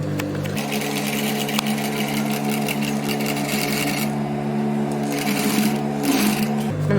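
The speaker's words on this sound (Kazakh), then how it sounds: "Енді осылай шетімен, машинкамен айландыра тігіп шығамыз." Domestic sewing machine running steadily, edge-stitching the border of a child's vest for a girl or boy of about six, a continuous close mechanical whir with a brief pause near the end.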